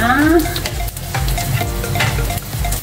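Small anchovies (dilis) fry in a little oil in a pan, a close continuous sizzle with scraping stirs throughout, no talking.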